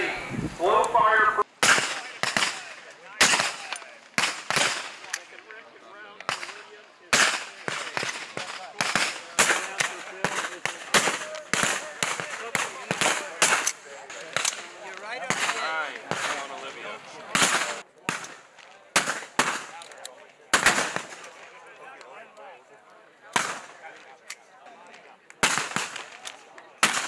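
Rifle shots ring out at a Marine Corps shooting competition, dozens of sharp, loud cracks in an irregular string over the whole stretch, with people talking between them.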